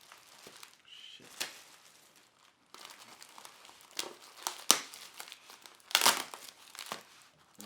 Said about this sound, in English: I'm going to slowly unbox this, or unwrap it